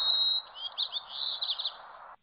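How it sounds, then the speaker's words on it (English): A white-crowned sparrow sings one short song, opening on a clear sustained whistle and breaking into buzzy, trilled notes, close and alone. "here's the white-crowned sparrow again"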